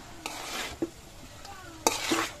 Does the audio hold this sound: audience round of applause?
no